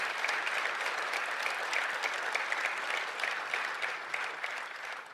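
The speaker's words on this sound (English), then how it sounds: "So I really want a round of applause for this amazing success." Sustained audience applause fills a press conference room for a new UConn football coach, a dense, steady wash of many hands clapping at even loudness with no talk over it.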